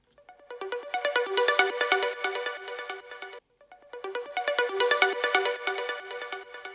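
A bright synth music sketch with a ringtone-like character plays two repeated phrases of quick, plucky, chiming notes, separated by a short gap, clean and fairly soft.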